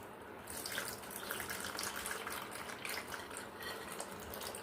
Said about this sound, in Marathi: हे जे आपलं गोळाचं पाक आहे ना ते आपल्याला छानसा एका गाळण्यावरती गाळून घ्यायचं आहे